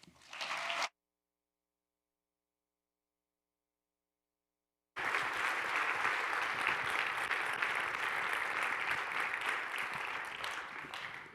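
An audience at a scholar forum applauds to welcome a speaker, a brief burst, then silence, then sustained broad clapping from a sizable crowd lasting several seconds, even and moderately distant.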